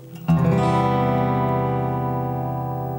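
One acoustic guitar chord strummed across all the strings, ringing out clearly and slowly fading over a few seconds.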